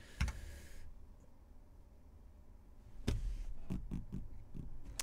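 A computer keyboard is used while setting up OAuth authentication in PowerShell: a few sharp, close key clicks, then a pause, then a short burst of several quicker taps over quiet room noise.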